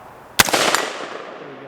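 Single rifle shot fired at a red painted AR-550 steel target, a sharp loud crack followed by a short rumbling echo that fades away outdoors.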